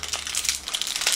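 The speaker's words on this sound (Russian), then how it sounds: "И теперь откроем вот этот пакетик." A small plastic packet from an L.O.L. Surprise Glam Glitter toy ball is torn open, giving a close, bright crinkling and rustling that runs steadily throughout with no voices over it.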